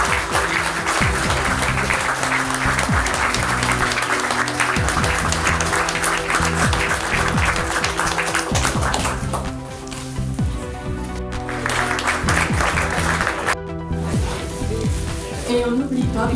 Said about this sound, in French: Et on peut vous applaudir aussi.